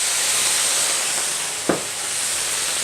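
Hot pan hiss of a beef stir fry with a garlic clove, steady sizzle throughout, with a brief splash and sharper flare as Rosé wine is poured in.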